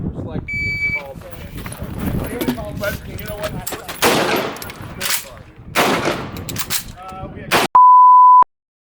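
An AK rifle fires rapid close, loud shots in short bursts after the sharp electronic beep of a shot timer, with a second timer beep sounding at the end and people talking around the shooting.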